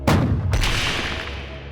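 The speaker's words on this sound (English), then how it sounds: "It got into position and then fired with its cannon, causing more deafening noises." A tank fires its cannon in two sharp, heavy booms close together, each followed by a rumbling decay into a lingering low roar.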